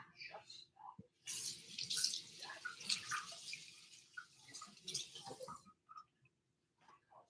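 A kitchen tap runs while hands are washed under it, a close, splashing stream of water that starts after a moment and stops near the end, with faint voice fragments around it.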